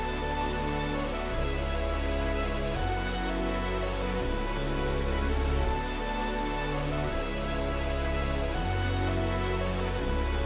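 Trap beat layering a growling bass, mid bass, a lead synth and violins, loud and dense with steady rhythmic bass hits every bar or so, heard alone with no talking.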